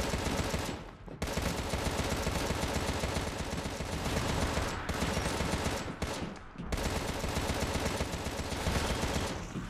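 Continuous loud gunfire in Contra: Rogue Corps, sustained rapid shooting with brief pauses around a few moments, dense and close throughout.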